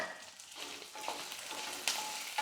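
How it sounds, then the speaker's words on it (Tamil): Lentils, chillies, ginger and garlic frying in a pan for a chutney, a steady close sizzle and crackle with a few brief stirring scrapes and pops, no talking. "இதெல்லாம் கொஞ்சம் நல்லா வதங்கட்டும்"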